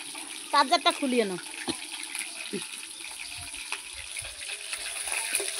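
Fish head frying in oil gives a steady, soft sizzling hiss that runs throughout, with a brief voice speaking near the start and a few faint clicks from the pan.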